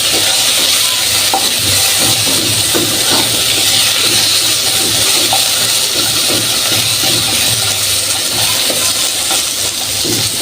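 Vegetables sizzle loudly in a hot pan of oil while being stirred for a home-cooked rohu fish curry with potato and tomato, a steady, close frying hiss throughout with no talking.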